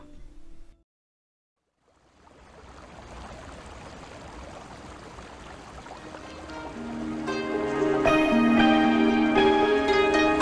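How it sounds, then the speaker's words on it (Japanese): A flowing stream in a Naruto Shippuden PSP video game, a steady soft watery rush that fades in after a brief silence and builds, with game music and chimes rising over it toward the end. "いい水の音だ。"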